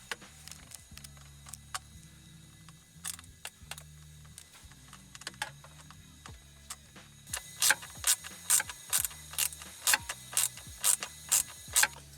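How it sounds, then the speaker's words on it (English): Sensor bolts tightened with a T15 Torx ratcheting driver inside a vehicle armrest: scattered faint clicks at first, then a regular run of loud, close ratchet clicks, with no speech. "We're using the T15 to put the 2 bolts for that sensor back on."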